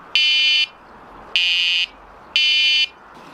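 Three evenly spaced, half-second high electronic tones from a Sonik SKX carp fishing bite alarm, loud and close, each separated by about a second of quiet background hiss.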